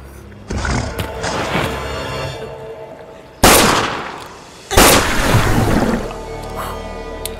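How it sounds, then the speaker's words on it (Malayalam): In a comedy scene, a gun is fired at a crocodile: two loud, sharp blasts a second or so apart, each with a trailing decay, over busy background noise and voices. "ഇങ്ങനെ വെടിവെച്ചാ മതിയാ?"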